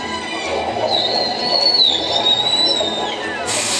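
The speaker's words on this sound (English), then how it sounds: "Whistles to socialize in the pod." A thin, wavering high whistle from an orca glides over a steady wash of background noise, sustained for a couple of seconds with slight pitch bends, at a marine park show.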